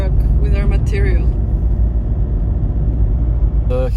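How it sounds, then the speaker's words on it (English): Low rumbling engine of a truck carrying building material for a stone wall, arriving up a steep hill, heavy and continuous, with voices talking over it. "There is our truck with our material."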